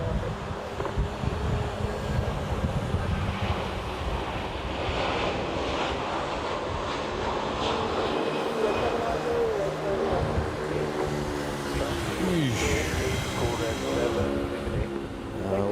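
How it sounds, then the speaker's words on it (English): Heavy jet airliner taking off from runway 24 at Manila airport, a broad sustained engine roar holding steady throughout, with voices talking over it. "It was a heavy takeoff"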